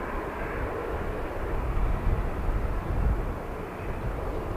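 An Air Transat Airbus A321 airliner at Manchester Airport gives a loud, low rumbling jet roar that pulses slightly stronger midway, with no talking.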